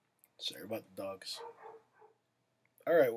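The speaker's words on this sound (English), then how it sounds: "Sorry about the dogs." Dogs bark and yip in the background of a home baritone ukulele lesson, in short bursts mixed with a man's speech.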